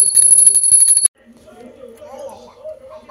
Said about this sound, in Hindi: घंटी बजा दो